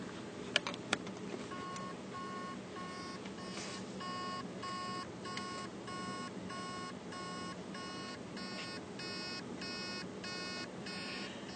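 Steady, evenly spaced electronic beeps repeat about twice a second from a hard drive with stuck heads, over a constant low whir, with no voices.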